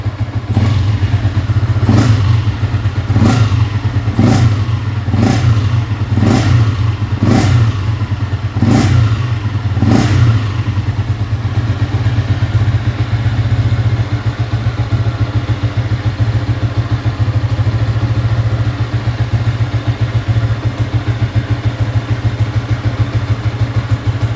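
A Yamaha Y15 motorcycle engine idles loudly and steadily up close, with a series of sharp regular revs or thumps in the first ten seconds before settling into a constant drone.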